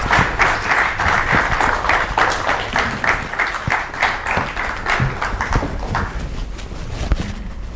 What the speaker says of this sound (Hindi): जोरदार तालियों के साथ स्वागत कीजिए पंडित